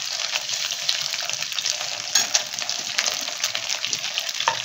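Chicken fries with sesame seeds in a pan for pineapple chicken, giving a dense, continuous sizzle with a few sharper pops and stirring scrapes, close and steady without any talk.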